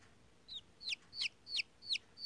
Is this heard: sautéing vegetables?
no